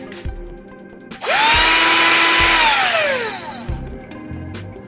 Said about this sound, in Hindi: ये काफ़ी अच्छा ड्रिल है और काफ़ी पावरफुल है।